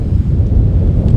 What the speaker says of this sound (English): Hopefully you can hear me though, because it got real freaking windy.